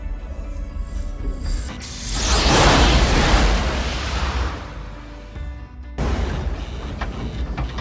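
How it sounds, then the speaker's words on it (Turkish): A dramatized Apollo 13 oxygen tank explosion aboard the spacecraft: a loud, broad roaring burst swells up and fills the scene for several seconds, then drops off abruptly and leaves a steady rumbling background. "Apollo 13'ün 11 Nisan 1970 yılındaki uçuşunun ertelenmesine sebep olan oksijen tankının patlaması"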